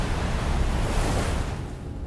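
Ocean waves at sea in Death Stranding, a loud, broad rushing wash of surf and wind that swells briefly and then eases off, with no talk.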